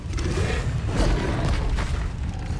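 An Expelliarmus spell cast in the Hogwarts Legacy video game lands as a loud, sustained booming whoosh, with dense rumbling energy running through the whole burst.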